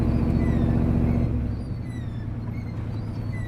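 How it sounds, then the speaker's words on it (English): Old truck with a stroked Chevy 383 engine and the back of its left muffler gone, idling with a loud, deep, throbbing exhaust rumble that eases slightly partway through, with no talking. "The whole back of the muffler on the left side's gone. So instead of a muffler, I got a megaphone."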